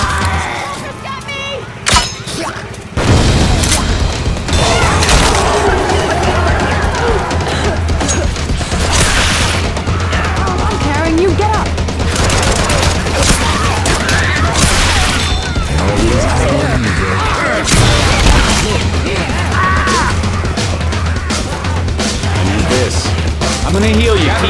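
Gunfire and crashing impacts in the video game City 17: Aftermath come thick and loud, with dense, continuous bursts of shots and explosions and voices talking over the action.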